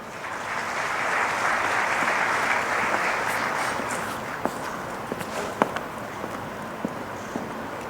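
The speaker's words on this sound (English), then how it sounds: "Please give a huge round of applause for Mr. Dixit." An audience at a university talk applauds the head of private equity as he is introduced, a steady, moderately loud wash of clapping that thins out, leaving scattered individual claps and footsteps.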